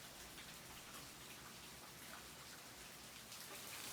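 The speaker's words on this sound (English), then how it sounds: "It's rainy." Steady rain falling outdoors in cold weather, a dense even hiss of drops on surfaces, continuous and soft at a distance, with no voices.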